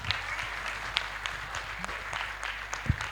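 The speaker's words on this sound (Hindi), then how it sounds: "मैं चाहूंगा जोरदार ताली एक बार बजना चाहिए इनके लिए।" Audience applause at a motivational talk, a steady wash of many hands clapping, moderately quiet and heard alone without talk.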